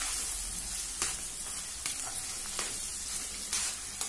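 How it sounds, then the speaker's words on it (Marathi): Ground peanut paste sautés with bottle gourd on a low gas flame, a soft, even sizzle punctuated every second or so by brief clicks of a stirring spoon. "आता मंद गैस वर हे वाटण देखील आपल्याला 2 ते 3 मिनिट या भोपळ्यासोबत परतवून घ्यायचं"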